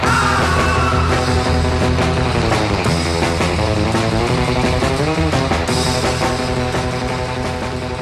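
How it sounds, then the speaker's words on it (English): Heavily overdriven electric guitar played through one of the first 100-watt Fender amps, a dense, saturated, buzzing tone with changing notes and chords sustained loudly throughout, no voices. "Setting everything to overdrive created a sound like this."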